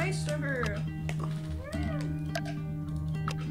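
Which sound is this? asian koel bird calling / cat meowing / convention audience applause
cat meowing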